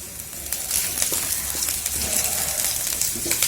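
Garlic, ginger and green chili sizzle and crackle steadily in hot oil, a loud constant frying hiss with scattered pops throughout.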